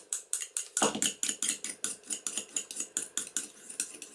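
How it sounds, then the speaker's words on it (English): A palette knife mixing glue with water in a small dish, rapid rhythmic close scraping and tapping strokes repeated steadily, with no talk. "use my palette knife to mix that all together"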